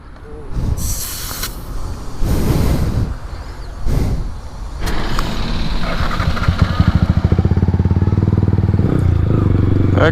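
Motorcycle engine and exhaust, loud and close, with bursts of throttle revving at the start, then a steady idle whose rapid exhaust pulses settle into a continuous throbbing note.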